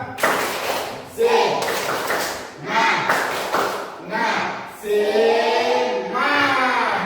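A standing school class does a tepuk semangat icebreaker, chanting together in bursts that alternate with sharp group claps in a steady rhythm, close and loud.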